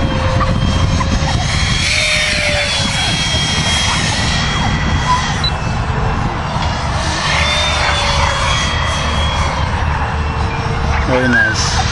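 A radio-controlled Nitroplanes F-18 electric ducted fan jet flies overhead, its loud steady whine rising and falling as it passes, with wind noise and occasional voices beneath.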